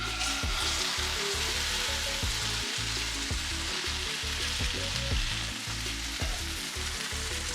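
Smocha filling hisses in a hot pan with a steady, loud sizzle, alongside a regular thumping beat of low hits throughout.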